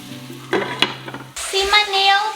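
Tadka for rajma curry frying in a pan: a short clatter of stirring, then a loud, steady sizzle of hot oil close up.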